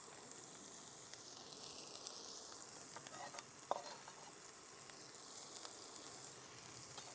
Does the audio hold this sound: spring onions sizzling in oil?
yes